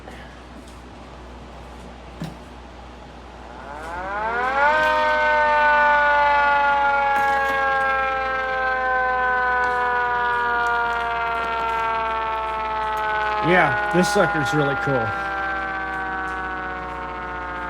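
A small siren winds up from a low growl to a steady, rising wail that holds loud for several seconds, with a brief horn-like blare near the end and a voice speaking.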